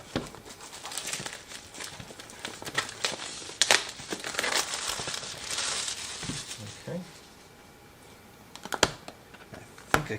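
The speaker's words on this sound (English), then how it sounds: "It's got some cellophane we'll get off of this." A drone box being unwrapped: a blade cuts through a seal, then cellophane wrapping is pulled away, giving loud, close crinkling and crackling in dense bursts, with a quieter stretch near the end before a few sharp rustles.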